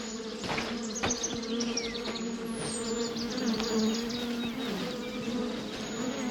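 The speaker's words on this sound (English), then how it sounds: "I hear the bees. I don't see them. They must be off the path somewhere." Bees in a video game, buzzing near a tree, a dense steady drone with insect whirring around it, moderately loud over a soft outdoor ambience with occasional faint bird-like chirps.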